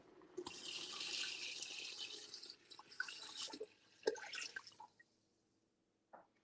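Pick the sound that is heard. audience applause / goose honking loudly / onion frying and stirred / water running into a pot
water running into a pot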